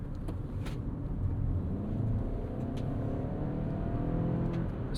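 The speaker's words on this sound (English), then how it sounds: "Sport mode sharpens up your throttle response and will leave that CVT revved a little bit higher." 2025 Toyota Highlander Hybrid in Sport mode, its CVT holding the engine at higher revs: a steady, muffled drone and road rumble heard from inside the cabin, fairly quiet and even throughout.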